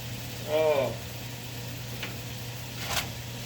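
Hamburger steaks with a browned crust frying in a pan, a soft, steady sizzle beneath a steady hum, with a brief voice near the start and a couple of light taps.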